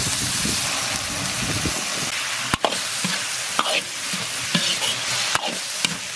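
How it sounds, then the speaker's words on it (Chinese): Pork strips and glass noodles sizzle in a wok as a spatula stirs them, a steady frying hiss punctuated by sharp scraping knocks of the utensil against the pan. "粉条炒起，倒入青红辣子炒一炒出锅"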